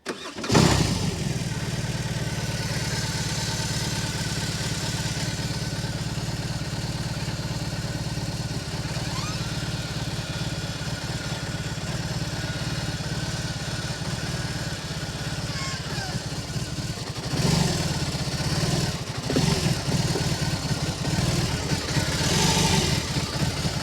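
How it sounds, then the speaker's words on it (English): A BMW R18 Transcontinental motorcycle with reverse gear, its big engine starting and then running steadily at idle and low speed while backing up, a continuous close rumble with a slight rise near the end. "I'm gonna give it a try and see how it works. It's gonna be my first time ever reversing the bike."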